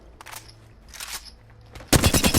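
Hip-fire shots from a gun in the video game CLO: a few short bursts of rapid automatic fire, then a louder, denser burst close up at the end, with no talk.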